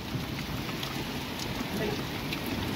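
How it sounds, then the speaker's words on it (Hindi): Heavy rain falls in a hilly mountain area, a steady dense hiss with a low rumbling undertone that holds without a break, fairly loud and close. "अभी हो गया बहुत तेज बारिश।"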